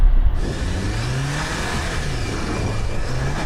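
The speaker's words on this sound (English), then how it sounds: "we're going to drive through this little bit in the woods, go round a tree to come out the other end, and Graham will be timing us" Off-road SUVs, a Toyota Land Cruiser 250, Jeep Wrangler Rubicon and Land Rover Defender, drive through woods around a tree: a loud, continuous engine drone that revs and strains, close by, with no talking.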